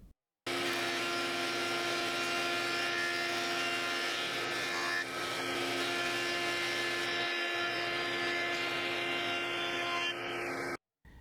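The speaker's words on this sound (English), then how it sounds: "we're going to be running this through the planer with our fresh blades" A loud, steady machine roar with a high whine runs continuously for about ten seconds, starting and stopping abruptly, as a thickness planer with fresh blades feeds a walnut board.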